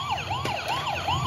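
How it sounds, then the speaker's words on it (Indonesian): Toy hospital ambulance siren wailing in a steady rising-and-falling electronic pattern, close and fairly loud, repeating about three cycles over a low background hum with a couple of faint clicks. "Dan kita jalankan ambulans rumah sakit ini."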